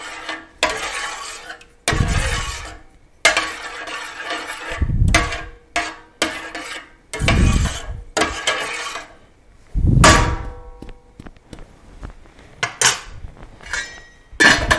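Mushroom and tomato soup stirred in a pot on a burner, with loud metallic scrapes and clanks of a utensil against the pot in irregular bursts, close and without talk.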